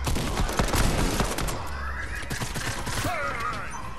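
Rapid bursts of gunfire fill a Fortnite match, loud and close, with dense overlapping shots and game effects through the opening seconds before trailing off.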